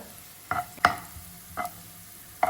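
Onions sautéing in a pan for butter garlic broccoli, a few isolated spatula scrapes and taps spread out over a faint background, close and fairly quiet, with no talking.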